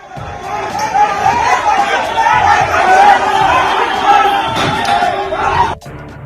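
An agitated crowd gathered outside a party office in West Bengal, shouting slogans in a loud, sustained roar of many overlapping voices, with a few thuds near the end.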